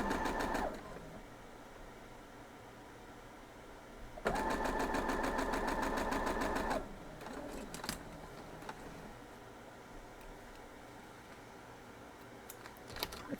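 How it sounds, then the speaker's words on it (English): A sewing machine stitches pink fabric into a quilt block in two short runs, first a brief burst and then a steadier whirring run of a couple of seconds, with clicks and fabric handling in between. "Gonna sew this pink one"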